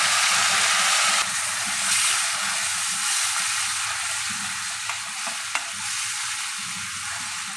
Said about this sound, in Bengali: এবার পেঁয়াজ বাটাটা দিয়ে দিচ্ছি।